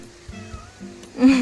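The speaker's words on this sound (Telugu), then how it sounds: "బ్యాక్గ్రౌండ్ మా పిల్లి మ్యూజిక్ అయితే భలే ఉంది కదండి" A pet cat in a home garden with lemon trees gives one short, fairly loud meow near the end, after a quiet stretch of faint background sound.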